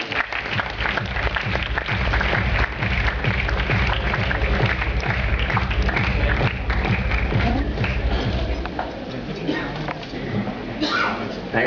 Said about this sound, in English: Please give a big warm round of welcome and applause to the chairman of Rupa and Company